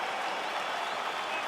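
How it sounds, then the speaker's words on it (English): A game crowd roars as a fight gets underway in EA Sports UFC 4. The dense, even wash of cheering and applause is steady throughout the short stretch, with no voices standing out. "crowd getting excited as this fight gets underway"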